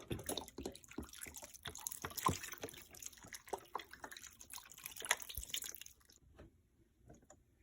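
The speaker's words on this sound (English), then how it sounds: "the last thing I'm going to add is beef broth" Beef broth poured into a roasting tin of garlic and other ingredients, a close, busy run of small splashes and drips that tapers off into near quiet near the end.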